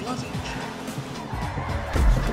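Grand Theft Auto V car engine revs with tire screeching as it slides through a drift, building louder toward the end.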